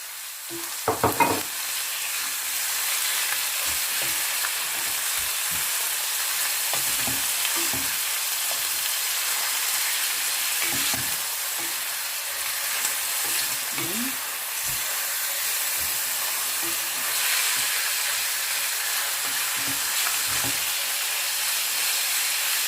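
Chicken frying with browned garlic in a pan gives a continuous sizzle and hiss, broken by scattered stirring clatters and scrapes throughout.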